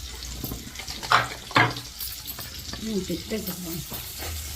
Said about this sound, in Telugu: ఉల్లిపాయలు, పచ్చిమిర్చి రెండు వేసుకొని